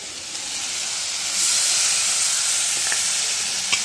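Masala fries in hot oil with a loud, steady, hissing sizzle that swells slightly partway through, close and with no voices.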